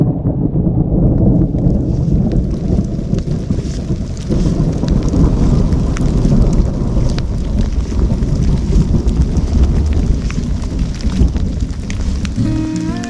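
Heavy rain pours with gusting wind on a mountain hiking trail at Akar Cinta on Mount Prau in Dieng, a dense, loud, unbroken roar with wind buffeting the microphone and low rumbles of thunder beneath.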